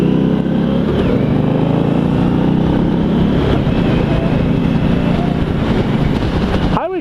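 A 2016 Victory Octane motorcycle cruises on a highway, its engine drone steady and loud beneath heavy wind rush, recorded from the rider's position.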